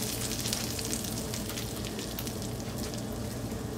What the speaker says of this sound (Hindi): इसके ऊपर तड़का लगा दें इस तरह से।